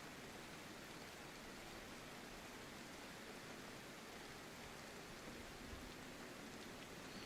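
Rain in the video game DayZ, a steady, dense, broadband hiss of falling rain, faint and unbroken with no distinct drops or voices.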